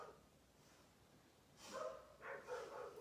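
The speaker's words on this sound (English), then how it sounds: "Listen to the soothing sounds of the dogs in the background." Dogs bark somewhere in the background outdoors, a few distant, soft yaps rising out of a low steady hiss.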